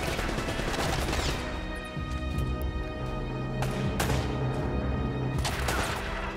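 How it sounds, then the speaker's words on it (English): Gunfire in Uncharted: Drake's Fortune, a dense ongoing fusillade of shots and impacts with occasional louder bursts, steady and close throughout the whole stretch. "I am being shot here"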